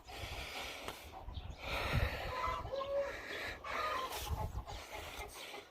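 Farm chickens clucking and squawking in a ruckus, heard faintly and somewhat distant, with scattered short calls and snort-like breathy noises over a low background.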